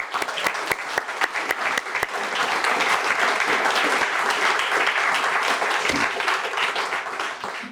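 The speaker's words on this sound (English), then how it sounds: "Let's have a round of applause for the Air Force's newest NCO and Senior NCO." Audience applause at an Air Force promotion ceremony at Lajes Field in the Azores, with individual claps at first building into sustained, dense clapping from a sizable crowd that fades slightly at the end.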